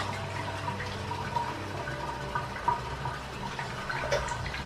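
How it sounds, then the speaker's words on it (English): Warm tap water runs steadily from a faucet for rinsing off a face during a bedtime skincare routine, a soft continuous splash with faint trickles and drips, no voices. "I'm about to rinse that off real quick with some warm water."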